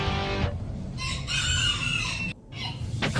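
A Japanese bantam rooster crows nearby, a strained, drawn-out call followed by clucking and farmyard rustle, with another short crow near the end.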